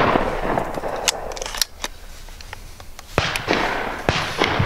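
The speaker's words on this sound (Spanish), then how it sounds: "estos son muchos más tiros de los que nosotros esperábamos" Shotgun blasts at a duck shoot in Monfortinho sound as several sharp, booming reports at irregular intervals over a busy outdoor background of rustling and movement.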